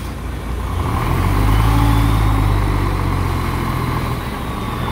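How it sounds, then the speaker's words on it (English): An overloaded three-axle truck rumbles by, a heavy low engine drone that swells as it draws nearer and then fades slightly as it moves away, with no voices over it. "this is definitely a qualified motor vehicle"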